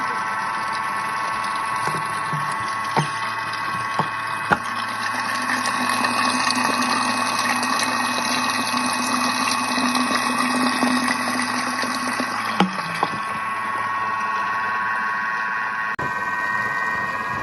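A Thermomix mixes and heats chocolate cake batter at speed 4, producing a steady motor whir with a constant tonal hum and a few faint clicks and knocks, unbroken from start to finish.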